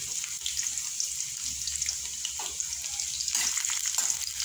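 Garlic frying in a pan for a Filipino home dish, giving a steady, close sizzling hiss that runs unbroken with a few soft stirring scrapes.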